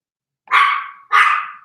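A dog gives two sharp barks in quick succession, loud and close, with silence before and between them.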